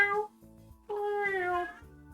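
A cat lets out two drawn-out, yowling meows close by, the second longer and louder, separated by a short pause.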